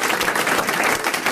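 Studio audience applause on a 1985 French television show, a dense steady burst of clapping filling the whole short stretch, loud and close.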